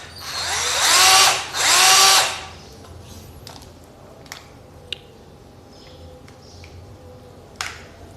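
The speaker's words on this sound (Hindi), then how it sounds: "जब आप इस बटन को इस साइड पर दबाएंगे तो ये ड्रिल मशीन फॉरवर्ड में चलती है।" A 12V cordless rechargeable drill runs forward in two short, loud whirring bursts close by, followed by quiet handling clicks and taps.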